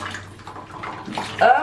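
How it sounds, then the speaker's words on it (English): Water draining out of a toilet tank as it is emptied during a running-toilet fill valve repair, a short gush that swells louder near the end, under brief speech. "which is going to release the rest of the water out."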